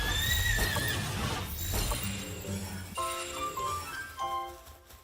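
Electric lightning-horse creatures in the video game Palworld neigh and whinny loudly, several high drawn-out calls overlapping with faint chinks, close and clear with no talking.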